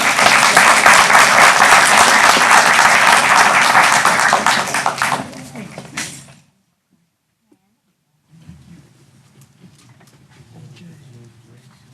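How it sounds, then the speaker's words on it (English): An audience at a Killeen city council meeting gives a loud round of applause that fades out after about six seconds, followed by silence and then faint room noise. "one more round of applause"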